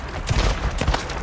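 Auto shotgun blasts in the video game Days Gone come as several quick heavy booms in a rough rhythm, loud and close within a busy, noisy mix.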